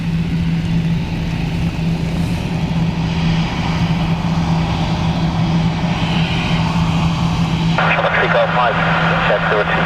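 Aer Lingus airliner, flight Shamrock 681 in from Geneva, landing at Dublin Airport, a steady loud engine roar running throughout under a radio voice, with added hissing texture near the end.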